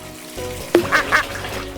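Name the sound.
rubber duck quacking at bath time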